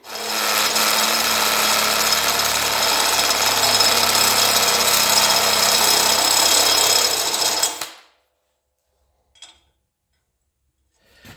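Loud, continuous power-tool grinding on metal for about eight seconds while drilling and welding on a bead roller, then it cuts out, leaving near silence with one faint click.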